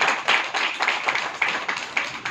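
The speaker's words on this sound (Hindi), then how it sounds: "तो एक बार ज़्यादा तालियां मेरे गुरु के" Brisk clapping from a small group, a steady run of sharp claps at moderate loudness with no voices.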